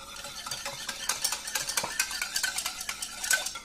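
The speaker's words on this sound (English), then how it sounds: "And you're just going to beat them lightly" Eggs being beaten lightly with a whisk in a bowl, a quick, quiet run of rapid clinking taps and scrapes heard close up with no talking.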